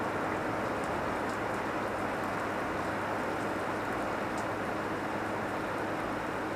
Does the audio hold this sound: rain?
yes